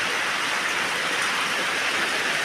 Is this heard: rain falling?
yes